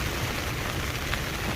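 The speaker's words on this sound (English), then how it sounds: "Another big rainstorm coming through." Heavy rain from a passing squall at sea, aboard a sailboat in the Port Fourchon area, a loud, dense, continuous hiss with no voices.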